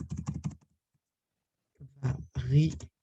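Thread name typed on a computer keyboard for embroidery machine software, a quick run of five or six close key clicks, followed by a pause and then someone speaking.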